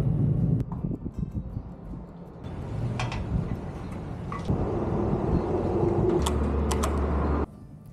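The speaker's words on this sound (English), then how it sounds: "there were wind gusts up to 18 to 20 miles per hour" Strong wind gusts buffet a rider on a Triumph Street Twin motorcycle, a steady low rumble of wind noise and engine that swells and eases, with a few faint bird calls in the background.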